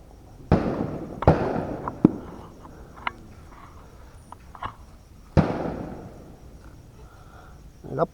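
Fireworks and firecrackers set off at a Thai end-of-Buddhist-Lent lantern festival, with several sharp loud bangs and crackling bursts spaced out over several seconds, some close and some lighter pops between them, with voices faintly in the background.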